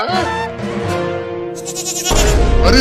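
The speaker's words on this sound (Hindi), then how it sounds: "अरे वाह, बकरी का बच्चा" A cartoon goat kid bleats loudly up close with a wavering, high, quivering cry, followed by a burst of brighter, noisier sound toward the end.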